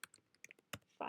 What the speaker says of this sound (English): And so I'm typing these really quickly.